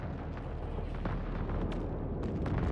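Spaceship explosions from the Homeworld 3 video game make a dense, continuous rumble of booms and bursts, with sharper blasts breaking through the roar, loud and without talk.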